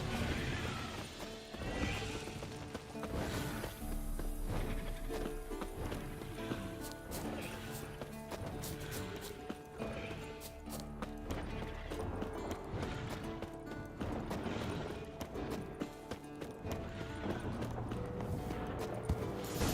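A horse whinnies loudly over clattering hooves, set within a dense soundscape of crashes and rumbling effects in The Witcher 3: Wild Hunt, during a fight with a winged monster.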